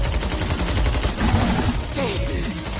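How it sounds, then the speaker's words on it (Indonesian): Dense gunfire aimed at a monster's belly in an anime battle, a continuous rapid burst of shots under a loud, busy soundtrack with no pauses. "Lalu Kafka meminta kepada Izumo Haruichi dan peserta lainnya untuk menembak Yoju itu di bagian perutnya."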